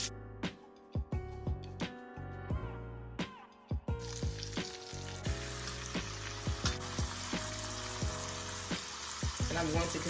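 Chicken pieces fry in a pan over medium heat, starting with scattered clicks and soft sizzles, then swelling into a dense, steady crackle with periodic sharp pops and utensil knocks, quiet and close.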